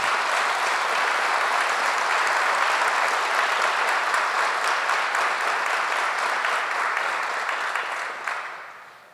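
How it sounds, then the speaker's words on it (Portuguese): Audience applause after a Catholic talk by Professor Felipe Aquino: dense, sustained clapping from a large crowd, loud and even throughout before tapering off at the very end. "Eu gosto desses aplausos"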